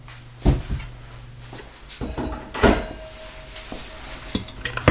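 Vegetables going into a pan to sauté for a plant-based sausage, egg and bean breakfast burrito, heard as a few close clattering knocks and scrapes of pan and utensil with faint sizzling between them.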